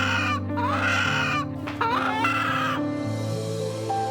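A desi village chicken clucks and crows, with several drawn-out rising squawks and calls close to the listener in a quiet rural setting.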